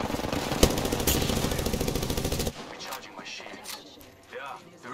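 Gunfire in the Apex Legends video game: a dense, loud burst of rapid automatic shots for a couple of seconds, then quieter game sounds with voices.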